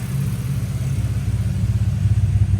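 A Honda Prelude engine idles cold with a low, steady rumble and a slightly uneven, loping pulse, close by and continuous.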